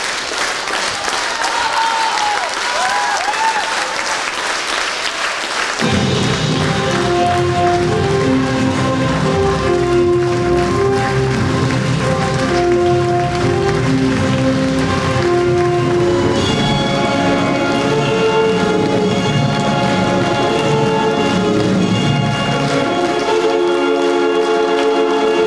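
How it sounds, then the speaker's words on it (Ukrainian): A Kyiv theatre audience gives an ovation to the visiting Sumy company at the finale of a tense play: dense, steady clapping for about six seconds before music takes over. "київська театральна публіка, затамувавши подих, переживала всі перипетії напруженого сюжету і нагородила сумчан у фіналі щедрими"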